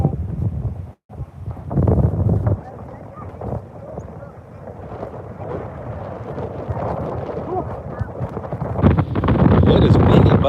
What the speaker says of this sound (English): It is windy, buddy.